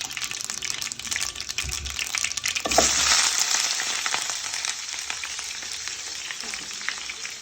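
Onion hits hot oil for a fish curry, setting off a sudden swelling sizzle that stays loud and continuous while the pieces fry.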